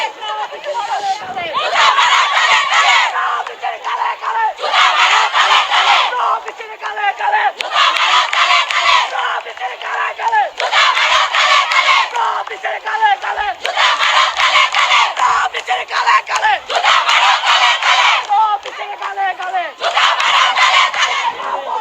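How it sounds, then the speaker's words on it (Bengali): Eden College students in Dhaka chant slogans during a confrontation with Dhaka University students, loud rhythmic crowd shouting repeating in regular waves, close and continuous. "ইডেন কলেজের শিক্ষার্থীরা ঢাকা বিশ্ববিদ্যালয়ের শিক্ষার্থীদেরকে মুখোমুখি হয়ে কিন্তু স্লোগান দিচ্ছে"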